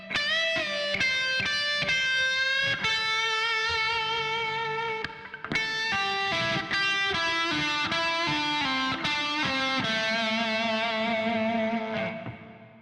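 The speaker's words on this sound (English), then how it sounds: "In section 1, you'll add quarter tone bends, vibrato, and pull-offs" An electric guitar solo with distortion and effects plays sustained melodic notes with quarter-tone bends, wavering vibrato and quick pull-offs, loud and continuous, with a brief dip midway before ringing out.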